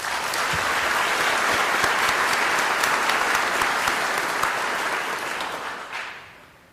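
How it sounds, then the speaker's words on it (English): Applause fills a civic association's annual meeting in Palm Beach: steady, dense clapping from the assembled members that holds loud and even, then thins and fades away at the end. "we owe him a separate round of applause"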